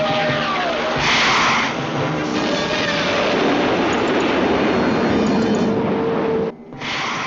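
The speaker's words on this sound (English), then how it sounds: "It's difficult to make her out. She's delta-winged, high-tail plane." A delta-winged, high-tail jet plane roars past in a loud, steady rushing drone that fills the whole stretch, then cuts off abruptly near the end.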